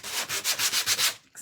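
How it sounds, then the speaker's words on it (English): Sanding block rubbed back and forth across a painting canvas, about seven rhythmic abrasive strokes close to the microphone, stopping abruptly at the end. "And I'm going to sand the canvas."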